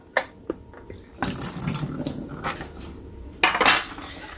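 Water splashes and clatters as the drip tray of a Jura Impressa F8 coffee machine is rinsed at a sink, with plastic knocks and short running-water bursts, close and without talk.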